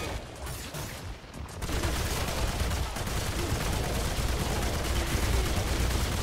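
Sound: weapon gunfire in Remnant 2 video game

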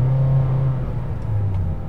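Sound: new Honda Freed engine revving under heavy throttle

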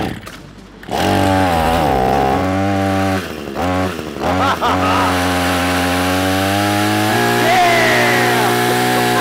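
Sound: homemade motorized chainsaw prop running

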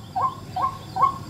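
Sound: white-breasted waterhen flock call

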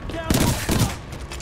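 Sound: Hemlock three-burst gun firing in Titanfall 2 video game

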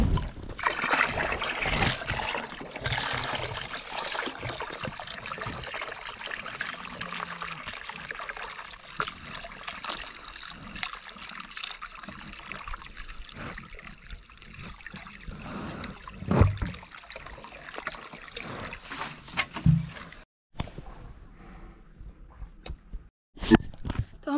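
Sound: water being poured for an animal to drink

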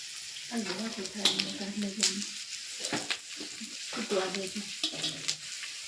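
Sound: edible gum frying in hot ghee for adadiya

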